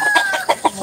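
Several chickens cluck close by in short repeated bursts, with a steady high whine running underneath.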